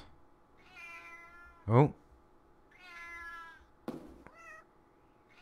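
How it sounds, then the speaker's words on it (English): A cat meows twice, with long, harmonic, whining calls in a small indoor space, and a person speaks a brief word between them. "It's that fucking cat."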